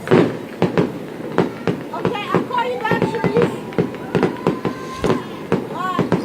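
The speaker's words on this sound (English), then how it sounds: "The fireworks you're actually looking at were the ones sent up from right in front of the fire station" Fireworks launched from in front of a fire station in Grenada burst overhead in a rapid, uneven string of sharp cracks and booms, some whistling, with people talking faintly underneath.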